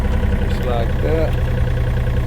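Huayee HY35C mini excavator engine idling up, a steady close low rumble with a faint whine drifting above it, continuous throughout.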